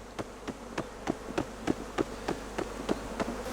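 A low, steady buzz of many honey bees in a hive, broken by a regular series of sharp knocks on the hive's sides, about three per second, close by.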